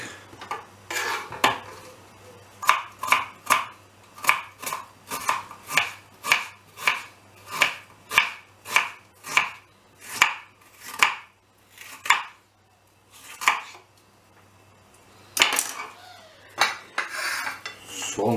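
Rhythmic knife strokes chopping onion finely on a cutting board, a quick regular series of sharp taps with a short pause before a few more.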